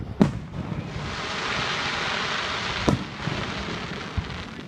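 Fourth of July fireworks crack sharply twice from a distance, each one a single loud burst over a steady hiss like rain that runs throughout.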